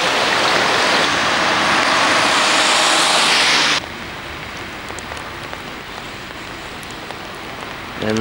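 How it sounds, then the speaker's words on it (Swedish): Heavy rain pours steadily in a gray, rainy Norwegian coastal area near Alta, a dense loud hiss that drops abruptly partway through to a softer, continuing patter. "Väldigt regnigt."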